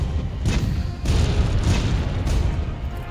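The Dragonator siege weapon in Monster Hunter: World fires with heavy booming blasts, several deep impacts rolling one after another over a loud rumbling battle din.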